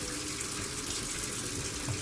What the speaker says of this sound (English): You can always check the water under the faucet just to make sure.